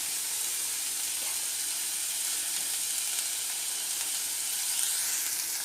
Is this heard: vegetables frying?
yes